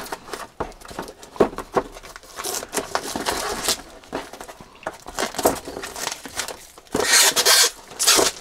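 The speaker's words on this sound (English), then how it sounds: "So let's just go ahead and unbox this. I'm gonna use my Husky X-Acto knife here." A range extender box is cut open with a Husky X-Acto knife, giving crinkling, scraping and rustling cardboard sounds in irregular close bursts, with a louder, sustained burst of rustling near the end.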